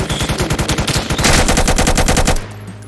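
A machine gun turret in a video game combat system fires a rapid, loud, steady burst of automatic shots for over two seconds, then the firing stops and a low rumble trails off.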